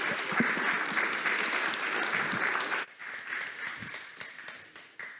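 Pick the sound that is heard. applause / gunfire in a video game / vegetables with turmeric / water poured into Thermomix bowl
applause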